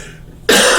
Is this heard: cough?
yes